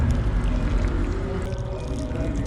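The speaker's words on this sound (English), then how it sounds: "So I'm going to pour water on it. This is hot water, guys." Hot water from a freshly boiled pot poured over dry fish outdoors for okra stew, a steady continuous splashing pour that stays loud and even throughout with no talking.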